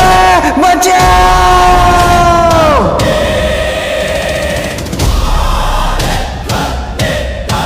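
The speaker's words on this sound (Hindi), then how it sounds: "किसकी चीख थी? अरे शॉन चिल्लाया यार, शॉन की चीख थी ये।" A cartoon boy screams loudly for help in a chaotic animated scene, the strained cry sliding down and breaking off after about three seconds, followed by noisy shouting and commotion.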